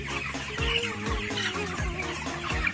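Broiler chickens in a semi-closed coop clucking close by, with repeated short clucks and calls coming in a loose rhythm over steady barn noise.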